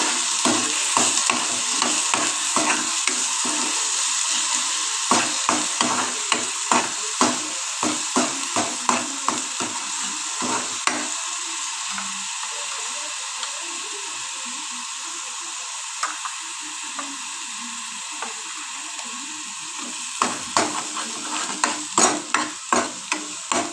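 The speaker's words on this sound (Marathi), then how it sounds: "ते आपलं वाटण परतून जाईल।" A spatula stirs an onion, coconut and garlic masala paste frying in oil over low heat, with steady sizzling and repeated scraping strokes that come in bursts and pauses throughout.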